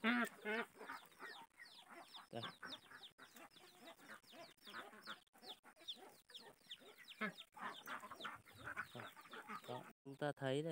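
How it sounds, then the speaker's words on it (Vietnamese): Chickens clucking on a hillside farm, many rapid, overlapping clucks and squawks close by, busy and irregular, with a person talking at moments among the birds. "Đây con là lợn, con gà, con vịt chạy ra đây đón này, đón người đây."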